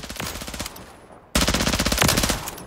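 Rapid automatic fire from an MP7A2 gun in Call of Duty Modern Warfare III, a loud continuous rattle of shots in two sustained bursts separated by a short break.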